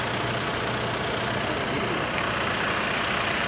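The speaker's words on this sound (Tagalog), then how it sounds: "pasensya ka sa ingay ng sasakyan" A vehicle engine drones loud and steady throughout, a continuous low rumbling roar with no break and no voices over it.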